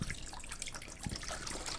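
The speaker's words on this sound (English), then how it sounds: "So I'm gonna pour this water out." Water poured out of a container onto a level table, a short splashing trickle with a few drips, close and moderately loud with no voices.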